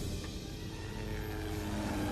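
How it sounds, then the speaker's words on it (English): Black Hawk helicopter in the film Outbreak, a steady loud rotor and engine drone that fills the short stretch without pause and with no voices over it. "the chopper that Cuba is in"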